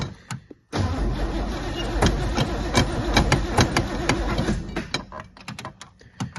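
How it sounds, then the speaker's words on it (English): A NASCAR race car engine being cranked and trying to start, loud, close churning and sputtering bursts with sharp pops and clatters, rising and falling unevenly before trailing off. "So let's see if this thing will start."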